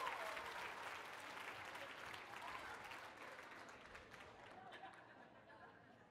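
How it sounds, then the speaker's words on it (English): A conference audience gives a round of applause after a group exercise; loud, dense clapping with some chatter gradually thins and fades toward the end. "Round of applause for everybody and Yolanda."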